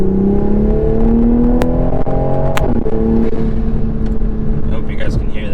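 A Toyota Supra engine accelerating on the road, loud and close with steadily rising revs, heard from inside the car alongside road noise.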